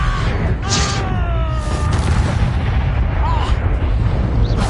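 Expulso spell blasts in a Harry Potter video game, heavy booming explosions rumbling continuously and loudly, with magical whooshing and sweeping tones layered over the din and a voice speaking over it.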